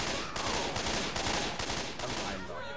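Rapid bursts of gunfire in the video game Left 4 Dead 2, several loud volleys of automatic shots arriving in quick succession, dense and close, with a brief tail of quieter shots at the end.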